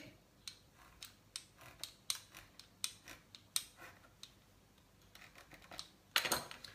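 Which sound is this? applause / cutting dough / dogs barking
cutting dough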